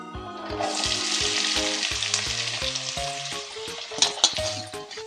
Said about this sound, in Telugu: ముందుగా కోసి ఉంచుకున్న ఉల్లిగడ్డ ముక్కలు వేసుకుంటున్నాను తాలింపులో